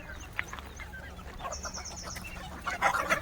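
Native free-range chickens and roosters on a high-tech backyard poultry farm cluck softly at a distance in the morning, with scattered bird calls and low outdoor background noise.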